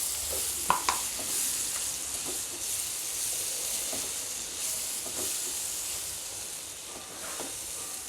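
Tomato puree fries with garlic and methi in a pan, giving a soft, continuous sizzle and hiss close by, with a couple of brief stirring clinks near the start.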